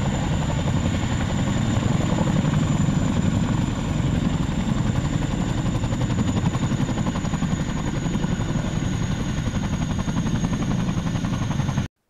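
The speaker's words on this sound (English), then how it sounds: "we will observe insertions and extractions using the CH-47 Chinook helicopter" A CH-47 Chinook helicopter in the video game ArmA 3 gives off a steady, close rotor and turbine drone that holds evenly for the whole stretch and cuts off abruptly at the end.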